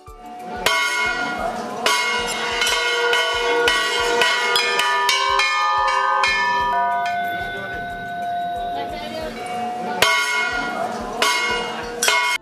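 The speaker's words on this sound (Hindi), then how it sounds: "उनके घंटे की आवाज ही दुष्टों को डराने के लिए काफी होती है।" Temple bells ring repeatedly in a Hindu devotional setting honoring Maa Chandraghanta, with loud, sustained metallic tones and sharp rhythmic strikes layered over steady ringing throughout.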